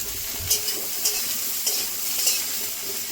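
Vegetables with potato, turmeric, cumin and chili powder fry in a pan, giving a steady close sizzle broken by regular scraping taps of a stirring utensil.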